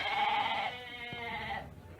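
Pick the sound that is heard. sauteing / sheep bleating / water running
sheep bleating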